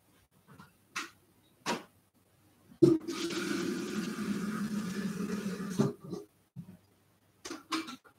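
Tap water runs steadily for about three seconds into a container being filled for boiling to make hot chocolate, close and fairly loud, with brief knocks and handling sounds before and after.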